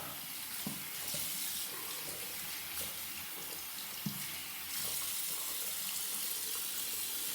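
Tap water runs into a sink while a shaving brush is rinsed under it, a steady close splashing hiss with occasional small knocks and a slight surge partway through.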